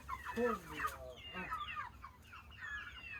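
Chicks clucking and chattering nearby at feed in a busy, overlapping flurry of short calls, moderately quiet.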